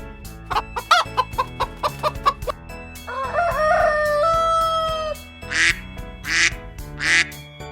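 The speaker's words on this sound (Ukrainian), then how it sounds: "Це курочка. Вона каже. Ко-ко-ко." A hen clucks in a quick run of short notes, then gives a long drawn-out call, followed by several harsh, loud squawks from the poultry yard.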